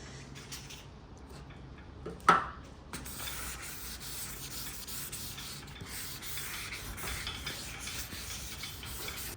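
Guide coat being rubbed across a primed car panel sanded to 320 grit, a soft continuous scrubbing hiss with one sharp knock early on.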